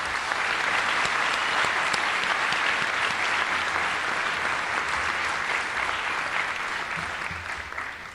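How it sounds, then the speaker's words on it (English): An audience at an awards-of-excellence event gives a strong, steady round of clapping that tapers slightly toward the end. "We need to give another huge round of applause"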